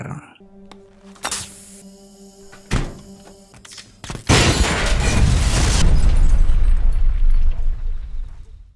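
A few sharp thuds are followed by a huge booming explosion, set off by a knife placed in a microwave, that roars on and slowly rumbles away.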